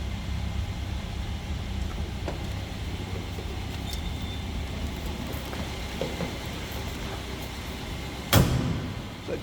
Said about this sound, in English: So the door closes and fits nice.